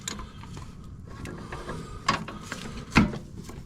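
A spanner loosens a bolt on a 2006 Honda CR-V during a VTEC valve change, giving a few metallic ratcheting clicks and one sharp clunk over a low rumbling background.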